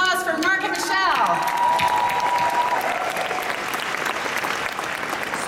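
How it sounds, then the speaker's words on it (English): An audience at a digital business workshop applauds two presenters with loud, sustained clapping and some cheering. A voice speaks over the start of it. "How about a round of applause for Mark and Michelle?"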